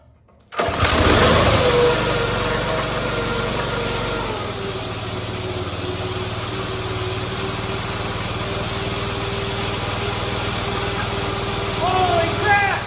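A small engine on a homemade go-kart catches after a short silence and roars to a loud, buzzy high-revving run, then settles into a steady raspy idle that holds to the end, with a few faint chirps on top.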